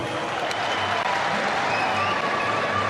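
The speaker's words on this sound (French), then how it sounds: "Applaudissez pour les Russes." A crowd applauds in honour of Russian soldiers in the Central African Republic, producing a dense, continuous wash of clapping at steady volume from start to finish.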